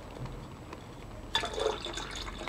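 Iron sulfate solution is poured into a filter, starting as a quiet trickle that swells into a close, splashing liquid fill after a short near-silent lead-in.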